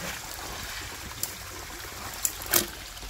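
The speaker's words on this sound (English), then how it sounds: "Look how it just drops down into there. Like a waterfall. Just running and dropping off right there." Creek water running over an edge and dropping off like a small waterfall in Florida, a steady soft rush with a few short splashy spikes near the end.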